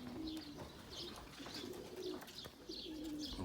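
Pigeons cooing nearby in a steady repeating rhythm, several soft low coos over constant background noise, no talking.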